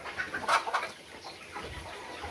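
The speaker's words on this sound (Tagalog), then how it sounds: "update tayo sa mga alaga nating manok" Backyard chickens give a few soft clucks and calls, fairly close and quiet, in a short stretch with faint background noise.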